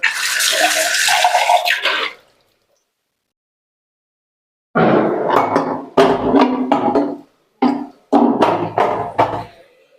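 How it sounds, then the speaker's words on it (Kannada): Water is splashed into a pan in several short bursts while chitranna (lemon rice) cooks, with a long quiet gap between the first pour and the later ones. "ಸ್ವಲ್ಪ ಸ್ವಲ್ಪ ನೀರು ಹಾಕೊಂಡು"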